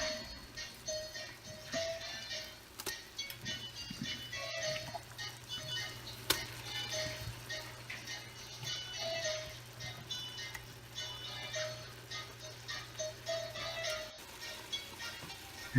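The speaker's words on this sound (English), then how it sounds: "Once the butter is all the way melted, we're going to add our pork." Pork frying in melted butter in a pan for spaghetti sauce, giving a steady, close sizzle with scattered ticks and light scraping throughout, no voices.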